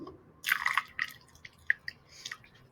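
Water in a small erosion experiment on a model riverbank, a few close, faint irregular drips and wet splashes spaced out over quiet background.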